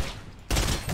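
Gunfire in Fortnite Battle Royale, a short burst of rapid shots that jumps sharply louder halfway through, dense and crackling with no talk over it.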